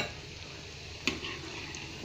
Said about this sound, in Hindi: ब्रेड तो इसी में तेल में फ्राई हो जाएगी